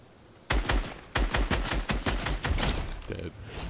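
Fortnite gunfire from a dragon's breath sniper erupts suddenly as a rapid volley of sharp, loud shots in quick succession, tapering into a brief trailing burst near the end.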